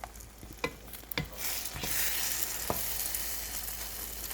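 Onion and tomato sauté in a pan for egg, a loud sizzle swelling after a few sharp spatula knocks against the pan, then holding steady with an occasional tap.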